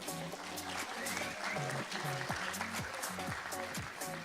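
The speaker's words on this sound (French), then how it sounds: "on peut les applaudir très fort" An audience at a collective's second-anniversary event applauds warmly, with dense, steady clapping throughout while a voice speaks over it.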